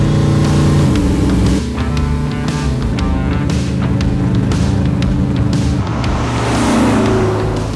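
A Holden HQ GTS Monaro with a naturally aspirated, carburetted E85 engine is driven hard. It gives a loud, raw exhaust note that rises and falls through several gear changes and revs, close up and with no talking.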